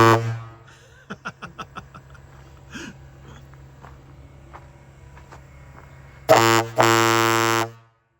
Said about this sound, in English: That's what does the air horn on it.